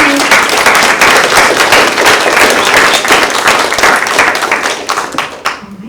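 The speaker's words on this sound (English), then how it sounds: "let's give them a round of applause" A crowd applauds loudly and steadily, many hands clapping at once, tapering off toward the end.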